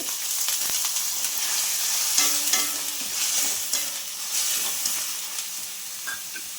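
Chili paste frying with garlic in hot oil makes a dense, steady sizzle and spatter, with occasional spoon scrapes and stirring knocks throughout, no one speaking.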